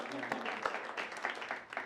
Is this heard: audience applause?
yes